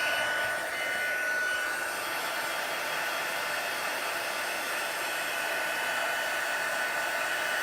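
A heat embossing tool blows hot air steadily onto a card, a continuous loud hairdryer-like whoosh from start to finish with no pauses.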